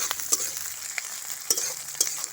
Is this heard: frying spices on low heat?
yes